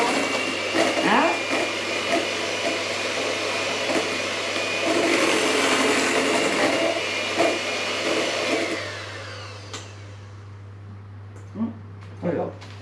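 Batter for a pear chocolate fondant cake, chocolate mixed with compote, is whirred by an electric mixer for about eight seconds before it stops, with someone talking over and after the motor.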